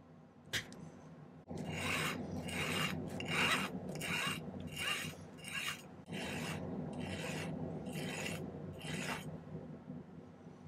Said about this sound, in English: I might snip them and then file them so I don't have to file quite so much